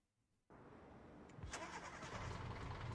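A car engine starts in Bakery Simulator after a short silence, cranking briefly and then settling into a steady idle that continues to the end, with no one talking.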